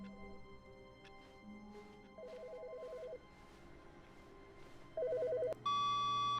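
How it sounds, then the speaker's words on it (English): A telephone rings in The Stanley Parable, a video game set in an office, sounding as two clear electronic ring bursts over a low steady hum and faint background tones. "Why is their phone ringing?"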